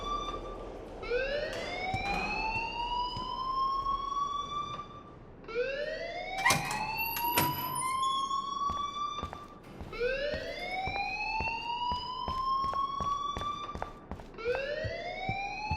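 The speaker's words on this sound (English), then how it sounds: "please turn off that alarm since that's your job" An alarm in the Life Is Strange video game wails in loud, rising siren sweeps that repeat about every four to five seconds, four cycles in a row, with scattered sharp clicks between.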